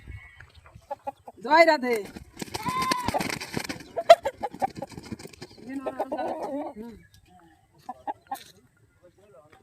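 A country rooster clucks and calls in several short bursts while being given water, close by, with a brief spoken greeting mixed in between the calls.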